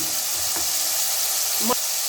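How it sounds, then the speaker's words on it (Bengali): Small Morola fish fry in a pan with a steady close hiss of bubbling oil, marked by a couple of brief spatula scrapes and knocks. "মাছগুলো ভাজা হোক, আমি আবার উল্টিয়ে আবার ভাজতে দেব"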